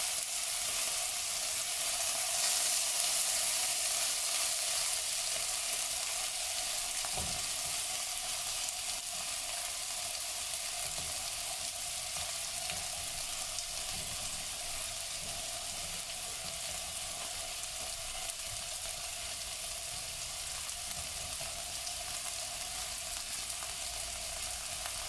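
Deboned chicken cooks in a pan for teriyaki, giving a loud, continuous sizzle and frying hiss that holds steady throughout, with faint stirring and no speech.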